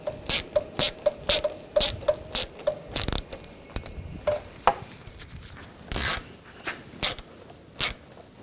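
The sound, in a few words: ratchet tightening Volkswagen Tiguan throttle body bolts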